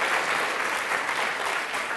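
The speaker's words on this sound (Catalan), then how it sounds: "També un fort aplaudiment per tots tres." An audience applauds three contestants at a spelling competition, steady dense clapping from a crowd, even and moderately loud for the whole stretch with no talk over it.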